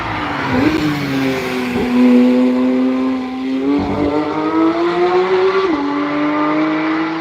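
Race cars roar past at the Nürburgring, engines rising and falling in pitch as several fly by one after another, loud and close, with no talk.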